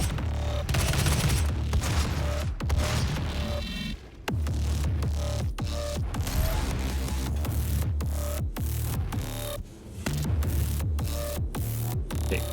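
Rapid, dense gunfire from the 2016 Doom video game, loud and close, with shots and blasts hammering almost continuously through the stretch, pausing only briefly twice.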